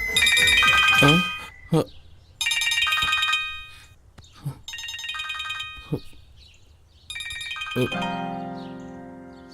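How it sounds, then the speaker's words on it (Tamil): A phone rings with an incoming call in a Tamil horror film scene, repeated electronic ringtone bursts separated by short pauses, with brief voices and thuds in between. "இவன் எதுக்கு இப்போ ஃபோன் பண்ணுறான்"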